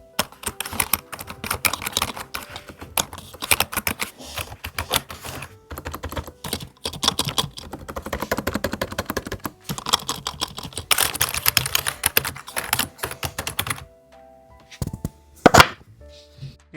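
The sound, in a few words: typing on Logitech Wave Keys keyboard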